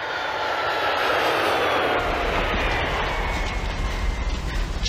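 A plane's aircraft engine roars as it descends in an action film, a loud, continuous rumble that swells and deepens, with a heavy low drone building partway through.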